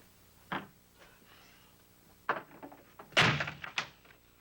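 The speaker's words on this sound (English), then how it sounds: "Keep this door open. Now open that other door." A wooden door thuds open and later bangs shut in a room, with a few knocks and rattles around the louder close, heard near and with no talk.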